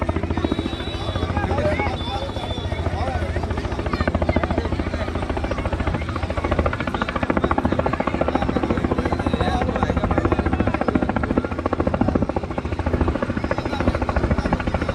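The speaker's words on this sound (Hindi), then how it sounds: "अब आप देख सकते हैं सेकेंड टाइम हेलीकॉप्टर लैंड कर रहा है" Helicopter making a second landing attempt in Barmer before a large crowd, its steady rotor and engine roar continuous and fairly loud throughout, with crowd noise and voices mixed underneath.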